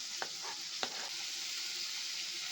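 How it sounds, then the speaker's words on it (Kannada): Chopped tomatoes and green chilies fry in a pan with a soft, steady sizzle, and two or three quick spatula scrapes come early in the short stretch. "ಇದೆಲ್ಲ ಚೆನ್ನಾಗಿ ಫ್ರೈ ಮಾಡ್ಕೊಳ್ಳೋಣ"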